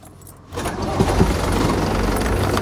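An old motorhome's engine cranks and catches after half a second, settling into a loud, rough, clattering idle that sounds like a tractor, close by.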